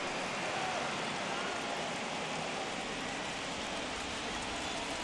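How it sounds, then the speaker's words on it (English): Steady, dense rain hissing down over a ballpark in the baseball game MLB 21, an even wash of falling water that stays constant and fairly loud, with faint commentary voices underneath. "we've mentioned the conditions aren't ideal with the rain coming down"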